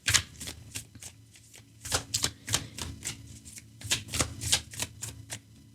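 Oracle cards being shuffled by hand, a run of crisp riffling bursts in an uneven rhythm, close and fairly quiet with no talking.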